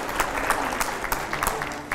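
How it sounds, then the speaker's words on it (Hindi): Audience applause at a political television event, a dense sheet of clapping with sharper individual claps popping out, moderately loud and steady throughout. "आइए पहले जोरदार तालियां हो जाए"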